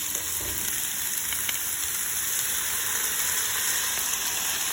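House seasoning and Bragg's liquid aminos sizzle on a Blackstone griddle with vegetables, a steady, even hiss throughout, close and fairly loud with no talk.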